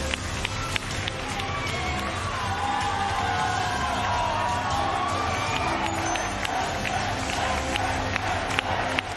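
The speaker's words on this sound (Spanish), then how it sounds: "Está fuerte el aplauso, Telefe Noticias." A large crowd at the Martín Fierro 2023 television awards ceremony applauds and cheers in a continuous, even wash of clapping and crowd noise, with occasional sharper claps and shouts.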